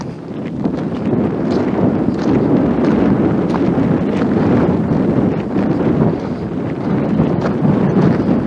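Strong wind roars steadily outdoors on a hillside walk along the Silk Road near Yangguan, buffeting the microphone with continuous low rumbling gusts throughout.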